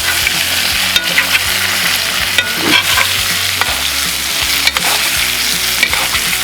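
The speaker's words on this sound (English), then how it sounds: "Now we're just gonna give these a quick basting here." Steak sizzling steadily in a hot pan while being basted with butter and garlic, a continuous loud frying crackle with spoon scrapes and spatters throughout.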